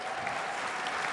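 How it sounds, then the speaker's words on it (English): Crowd at a conservative political conference applauding, a dense, even roar of clapping heard somewhat distantly and at moderate level throughout. "Let's give them a round of applause."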